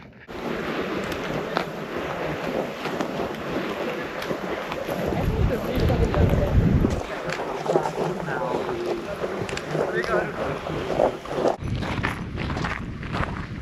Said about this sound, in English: the wind is blowing us away